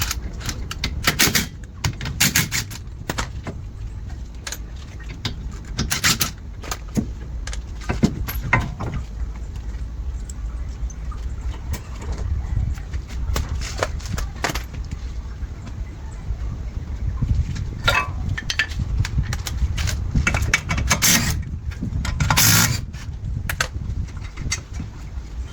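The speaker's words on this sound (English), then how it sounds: "we're about to pull off the caliper now" A brake caliper is pulled off the wheel of a 2012 Toyota Hiace: scattered sharp metallic clicks and knocks come in bursts over a low rumble, close by, with no talking.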